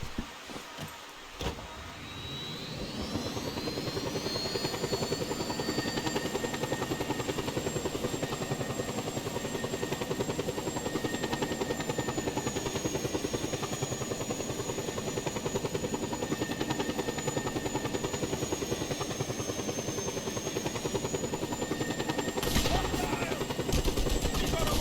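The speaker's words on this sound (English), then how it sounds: "Better helicopter. Faster, more dangerous." Helicopter flying in the open-world game Just Cause 2, set on the island of Panau, its engine roar and rotor whine holding loud and continuous after a brief start, with a rising turbine tone.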